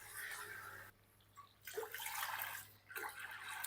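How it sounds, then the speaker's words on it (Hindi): Water splashes into a cooking pot of fried spices for chicken mandi in a few separate pours with short pauses between them, quiet and close, with no talking. "मसाले की भुनाई करने के बाद अब इसमें मैं पानी शामिल कर दूंगा।"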